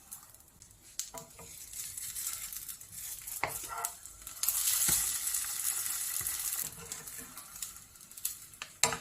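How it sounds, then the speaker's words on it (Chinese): Egg-dipped bread slices sizzle in melted butter in a pan over medium-low heat, a steady close frying hiss with occasional scrapes and taps, no talk. "把面包片放进来，两面煎出漂亮的焦黄色。"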